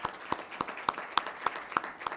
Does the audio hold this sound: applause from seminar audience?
yes